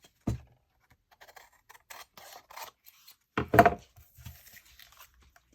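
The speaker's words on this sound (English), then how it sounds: "I'll cut all this off." Scissors snip through paper while trimming excess from a handmade mini journal, a sharp cut near the start and a louder crunchy burst of cutting midway, with faint rustling between.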